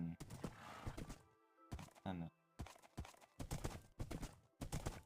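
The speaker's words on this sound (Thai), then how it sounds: "ถึงมันจะวิ่งช้าแต่มันก็วิ่งได้ เพราะมันคือม้า" Horse galloping in the Minecraft video game, with quick clip-clop hoofbeats in short bursts between stretches of loud talking voices.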